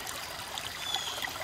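Honeysuckle Creek, a West Virginia creek in a wooded holler, flows in a steady bright rushing babble, close and continuous with no voices.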